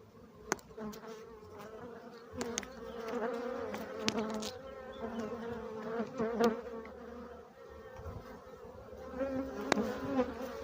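Dense buzzing of many honey bees close by at the hive, droning continuously with occasional louder passes of individual bees.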